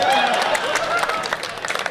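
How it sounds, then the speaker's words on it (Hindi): An audience at a Hindi comic poetry gathering claps together in a dense, loud burst that thins out toward the end, while a voice talks over the applause. "तो अगर कृपा चाहिए तो एक बार मिलकर ताली बजाओ।"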